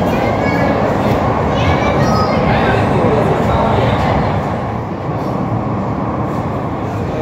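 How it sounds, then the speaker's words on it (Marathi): Loud, continuous rumbling roar of a Mumbai Metro Line 3 train running underground beneath the Mithi River, steady throughout with a faint high whine above. "काय स्पीड आहे बघा ट्रेनला, स्पीडचा अनुभव घेऊ इथं"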